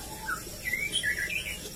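A white-rumped shama, a murai batu, gives short, high chirps and twittering notes at a moderate distance over a steady hiss of background noise.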